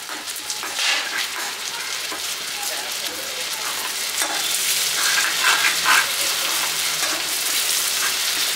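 Pav bhaji vegetables frying in butter in a pan, a loud, steady sizzle that swells slightly over time with soft stirring scrapes, close to the listener.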